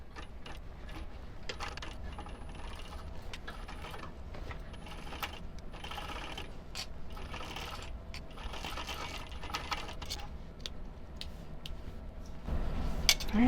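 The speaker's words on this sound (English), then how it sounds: "put this under the needle and we're going to stitch it at about 1/8 of an inch all the way across to close the pocket" A sewing machine stitches steadily across a bag pocket to close it, giving a quiet, continuous mechanical whir with faint rattling that swells slightly near the end.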